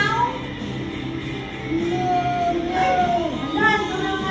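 A person imitates a cat's meow with a few short, rising whines, amid background chatter and playful noise.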